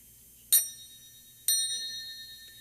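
A small, idle bell struck twice about a second apart, each a bright, clear ding that rings on and slowly fades in a quiet room.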